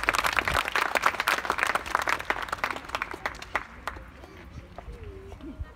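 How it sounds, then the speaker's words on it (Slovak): Outdoor audience applause at a playground opening event in Zvolen, dense loud clapping that gradually thins and fades, with voices talking under the tail end. "Tak ešte jeden veľký potlesk pre pani primátorku"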